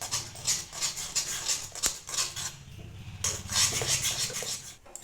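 Sago mixture is stirred with lemon juice in a bowl, a spoon scraping and clinking against the sides in a steady run of close, uneven rubs and taps, with no talking.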